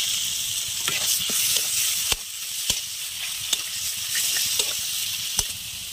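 Chicken meat sizzles and fries in a hot pan seasoned with turmeric and salt, a steady close hiss broken by sharp crackles and pops as pieces are stirred, with no voices present.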